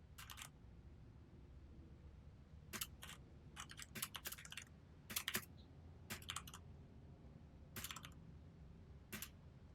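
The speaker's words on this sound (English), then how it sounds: "Sorry, I'm typing." Quiet computer keyboard typing during a live-streamed SWTOR group session, with short bursts of clicky keystrokes separated by pauses and sitting close to the microphone.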